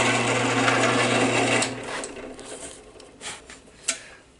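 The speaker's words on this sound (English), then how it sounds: "let's drill a hole for the beak" A drill bores a hole into a small wooden penguin Christmas ornament for its beak, a steady high whine for about a second and a half before winding down, followed by a few light taps and scrapes.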